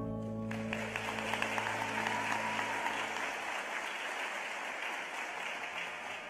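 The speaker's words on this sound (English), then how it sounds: "One more big round of applause." An audience at a school district Teacher of the Year celebration claps loudly and steadily after a brief musical tone, a dense wash of applause lasting several seconds.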